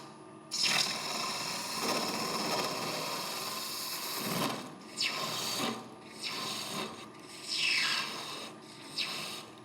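Green wood being shaved by hand during a woodworking demonstration: close, rasping strokes, with a long continuous scrape followed by several shorter separate pulls, each ending abruptly, loud and alone without talking.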